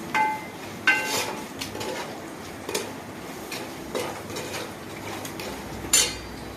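Egg is mixed in a pan for egg fried rice, a spoon clanking and scraping against the metal in sharp, irregular knocks over a quiet background.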